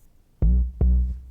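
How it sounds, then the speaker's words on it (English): Deep synth bass in a studio mix, two heavy low notes with sharp onsets roughly half a second apart, each holding briefly before fading, heard alone without talk. "that's the synth bass I'm talking about"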